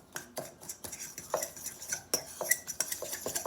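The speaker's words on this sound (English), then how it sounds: "I'm going to stir that up first, okay, with my fork." A fork scrapes and clinks against a bowl while stirring brown sugar and white sugar together for berry streusel muffins, a quick irregular series of light close taps and scrapes, quiet and with no talk.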